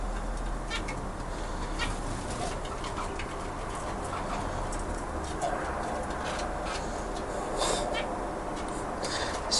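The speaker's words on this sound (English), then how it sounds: "a little bit of cooing" Pigeons or doves kept in a backyard aviary coo softly at moderate distance, low murmuring calls repeating over a steady background hiss with occasional faint chirps, no talking.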